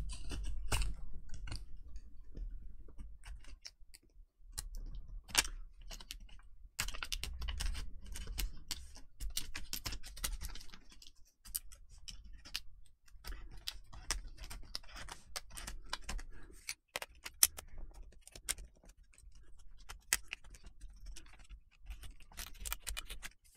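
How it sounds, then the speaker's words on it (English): A tool cuts through adhesive tape around the edges of a non-touch laptop LCD screen, making quiet irregular clicks, ticks and scratchy scrapes in uneven bursts with short pauses and no talking. "use this just to run around the edges of the screen"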